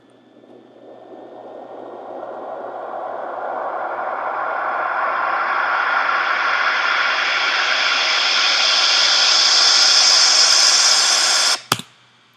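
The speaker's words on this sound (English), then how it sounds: "how you can make white noise" A synthesized white noise sweep rising gradually in brightness and loudness for about eleven seconds, then cutting off with a sharp click.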